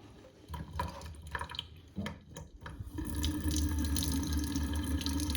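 Tap water starts running into a sink, a dense steady splashing after a few quieter drips and clinks, continuing loud and close.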